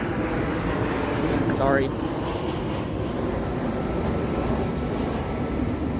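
An SC-44 Charger locomotive leads MARC commuter train 852 past Dorsey, a loud continuous engine and rail rumble close by, with a person briefly speaking over it.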